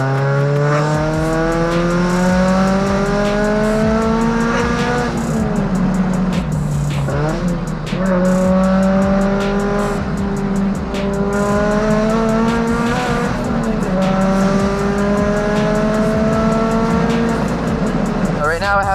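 A tuned turbocharged Subaru BRZ running 7 PSI on ethanol, driven hard on back roads, its loud exhaust climbing through repeated revving pulls with brief drops between gear changes, close and continuous.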